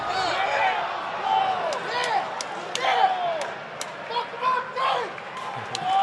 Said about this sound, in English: The crowd is extremely into this as explicatives are being yelled